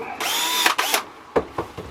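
A handheld power drill whirs in loud bursts, a sustained run followed by several short stop-start triggers, close by with no talk.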